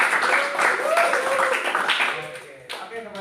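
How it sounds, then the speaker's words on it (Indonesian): A classroom of students clapping at the end of a lesson, a moderate burst of hands that fades while voices talk over it. "boleh sekali lagi tepuk tangan buat kita semua"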